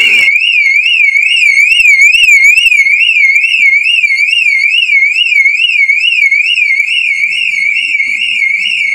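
A parked car's alarm wails loudly and close by, a continuous electronic warble rising and falling in a fast, regular cycle, with no other sounds.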